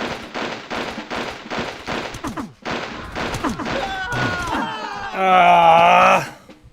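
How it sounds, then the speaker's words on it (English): Rapid bursts of gunfire in the video game Army Men rattle in quick succession, followed by louder chaotic effects and a harsh sustained blast. "What happened? Why is there gunfire?"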